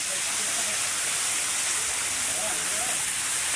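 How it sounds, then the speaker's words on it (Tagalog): A strong waterfall in a rainforest park roars as a loud, dense, continuous rush of water, steady and unbroken throughout, with faint voices nearly buried beneath. "Wow, waterfalls. Ang lakas oh."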